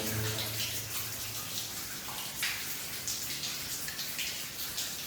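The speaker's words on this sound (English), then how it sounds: "Waterfall inside the cave." A waterfall pours inside a sea cave at Holywell Beach, Cornwall, with dense, continuous splashing and rushing water echoing at moderate volume, plus scattered drips and no talking.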